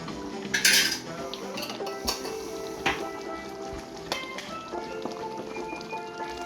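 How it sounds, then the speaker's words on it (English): Metal spoon stirring jerk sauce into a bone-in hind shank beef stew in a pot, with a few sharp clinks and scrapes against the pot, close and clear, no voices. "Stir that in."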